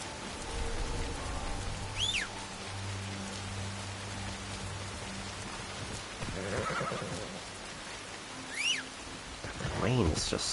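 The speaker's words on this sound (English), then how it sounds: "The rain is just so heavy." Heavy rain pours steadily in a stealth action video game, a continuous wash of downpour with a few faint chirps and a brief rumble under it.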